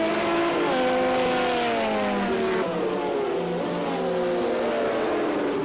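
A Porsche race car from a Legends-themed racing video game pack roars loud and close, its engine note climbing through several gears with quick shift dips and steady high revs.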